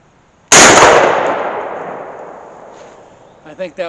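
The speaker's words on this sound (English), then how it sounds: "I kind of knew as soon as I pulled the trigger that it was a bad shot" A shotgun fires a single shot of number 6 shot at a patterning target outdoors. The sharp, loud boom rings out and decays slowly, and a voice starts speaking at the end.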